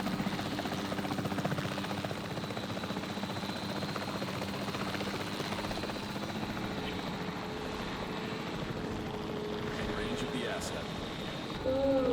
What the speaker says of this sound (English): Oh, I'm in control of the helicopter.